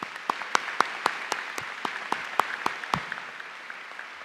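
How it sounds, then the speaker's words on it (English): Applause at the Fallston High School 2025 commencement for the student speakers: a thin, sparse patter of individual claps from a scattered audience, tapering off after a few seconds. "Can we have another round of applause for those speakers?"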